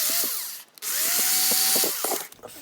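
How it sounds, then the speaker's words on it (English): A power drill bores out plastic on a Corgi Juniors Ford Gran Torino die-cast toy car during restoration, a close high whine rising and holding, cutting out briefly and then resuming with gritty grinding. "a bit more gentle oscillating drilling"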